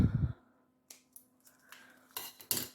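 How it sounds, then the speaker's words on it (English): Scissors snip through wrapping ribbon while a present is wrapped, a few quiet, close, crisp clicks spaced irregularly after a brief rustle. "you're going to take some of this wrapping band and you're going to cut a part off"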